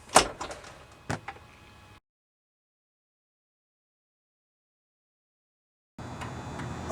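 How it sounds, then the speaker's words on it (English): A door on an Escape camper trailer being closed, a sharp bump followed by a second thud, then a stretch of silence before steady background noise returns. "All you have to do is close the door"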